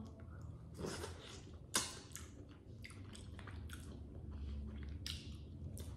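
A cooked mussel from a seafood boil with Bahamian lobster is bitten and chewed close to the microphone, soft wet squishes and clicks in an irregular rhythm, quiet and alone.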